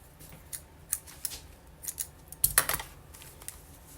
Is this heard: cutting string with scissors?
yes